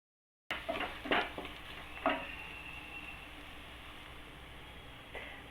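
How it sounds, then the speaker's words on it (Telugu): Fried paneer cubes drop into sizzling butter masala in a pan. A few soft thuds and stirring scrapes come first, then a steady close sizzle carries on alone. "ఇప్పుడు నేను ఫ్రై చేసి పెట్టుకున్న పన్నీర్ వేస్తున్నాను"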